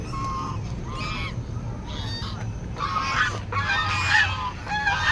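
Waterfowl at a pond in an eco park honk loudly in a noisy, overlapping chorus of repeated calls, with a steady outdoor rumble underneath.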